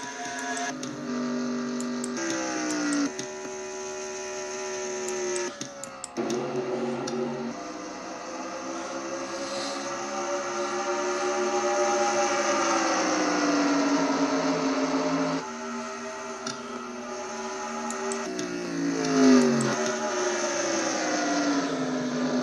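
Racing cars in a Nationwide Series racing video game at Motegi stream past in a continuous whining engine drone, pitches rising and falling as the field passes in succession, with no voices over it.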